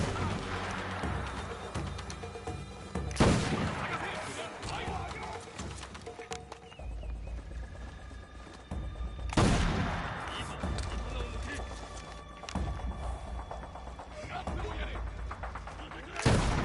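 Sharp shots from Assassin's Creed Shadows crack out in a few loud bursts spaced several seconds apart, standing out over ongoing game ambience with horse clip-clop and occasional voices.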